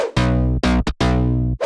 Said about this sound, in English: Mid bass without effect.